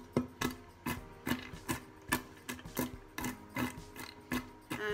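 Almonds are ground by hand, a handful at a time, for streusel coffee cake muffins; close, rhythmic crunching and grinding strokes repeat roughly every half second with no talk.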